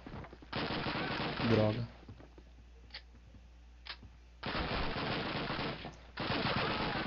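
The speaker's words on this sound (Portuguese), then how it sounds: "De onde tá vindo os tiros?" Bursts of automatic gunfire from the first Call of Duty game rattle loudly in long sustained volleys with a few isolated shots between, and someone speaks briefly during the shooting.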